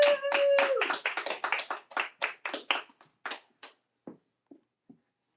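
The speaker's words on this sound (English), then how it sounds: "Clap it up, y'all." A gathering clapping at a church event, a quick burst of many hands with a whoop at the start, thinning to scattered individual claps that die away one by one.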